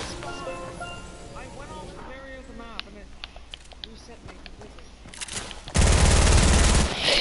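Video game gunfire crackles in scattered bursts under several players' excited chatter, ending in a loud, sustained roar of noise.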